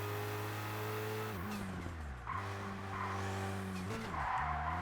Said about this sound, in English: Sounds more like a Subaru Impreza